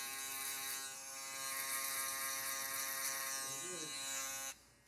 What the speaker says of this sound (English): Phase 1 just includes setting in our skin line, using our electric shaver, and debulking the hair for the most part.